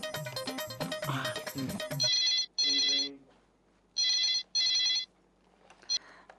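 A telephone ringtone sounds after a call is placed, loud electronic ring bursts in pairs with short pauses, following a brief stretch of music at the start.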